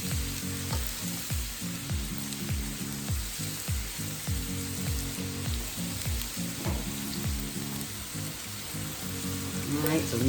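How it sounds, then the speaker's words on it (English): Finely chopped onions frying in a pan for risotto, a steady crackling sizzle with a rapid run of tapping clicks throughout, close and moderately loud with no talking. "let's get the onions into the pan"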